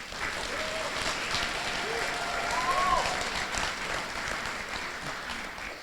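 Audience applause at a university medical oath-swearing and awards ceremony, steady sustained clapping from a large crowd with faint voices mixed in.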